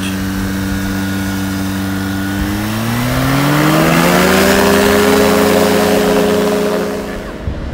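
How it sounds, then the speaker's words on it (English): A small ultralight aircraft engine on a beach in Baja California drones steadily and loud, its pitch climbing smoothly midway as the motor revs up and holds, with the sound close by throughout. "You can even do an ultralight ride right from the beach."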